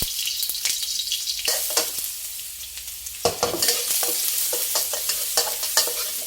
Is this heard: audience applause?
no